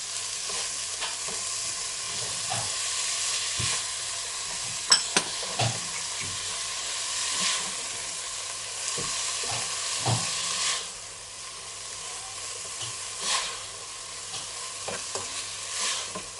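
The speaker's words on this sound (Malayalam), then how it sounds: "1 ടേബിൾ സ്പൂൺ പെപ്പർ പൗഡറും 1 ടേബിൾ സ്പൂൺ സോയാ സോസും ചേർത്ത് നന്നായിട്ട് മിക്സ് ചെയ്യാം." Fried rice with vegetables, pepper powder and soy sauce is stir-fried in a pan, a soft continuous sizzle broken by repeated spatula scrapes and knocks at an unhurried pace, close by and with no talking.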